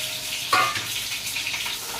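Food fries in a pan on a gas stove in a home kitchen, a soft continuous sizzle and crackle heard up close, with one brief sharp clink near the start.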